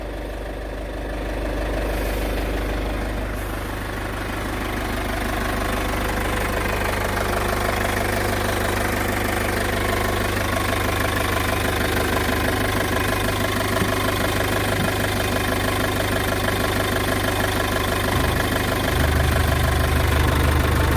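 A used RV/SUV engine idles steadily at close range, a continuous low rumble with a faint ticking knock running through it and no talk over it, rising slightly in level near the end.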